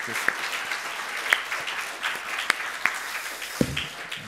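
A church congregation applauds together in a sustained wash of steady clapping, with a few sharper individual claps standing out.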